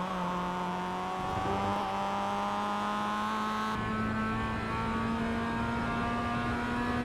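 Mazda MX-5 race car in the iRacing simulator accelerating hard out of a chicane at Oulton Park International, its engine note climbing steadily through the revs with a gear change partway, loud and continuous with no talk.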